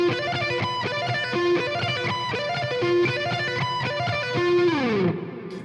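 String-skipping blues scale lick on distorted electric guitar, a simplified version played in a steady repeating pattern of quick notes. It ends in a downward slide, then a brief fading tail.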